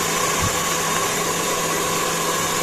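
An electric mixer beats brownie batter of egg, sugar and cocoa, giving a steady, unbroken motor whir close by with no talk over it.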